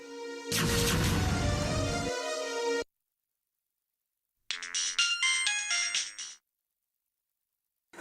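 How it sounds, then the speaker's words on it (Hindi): A telephone ringtone rings out in two bursts within a Hindi television drama scene, a loud electronic melody about two seconds long, then silence, then a second shorter ring; no speech is heard. "आशा बेटा, अब तुमने फोन क्यों नहीं उठाया?"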